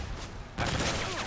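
Type 95 rifle fire in an online team deathmatch shooter game, a brief burst that starts abruptly partway through and stays loud and dense to the end, with no talking over it.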